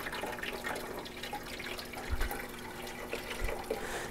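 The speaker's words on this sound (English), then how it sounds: "I will show you the top pouring right now" Water poured from a jug into the top of a Honeywell top-fill cool mist humidifier: quiet trickling and gurgling with a couple of soft low splashes, faint and close, no voices.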